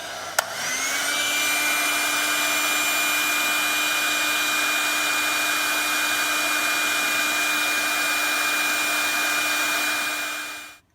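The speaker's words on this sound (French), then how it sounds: "On va passer maintenant au sèche-cheveux." A hair dryer switches on with a click and blows steadily on an iPhone with a loud, even whir and high whine, then cuts off at the end.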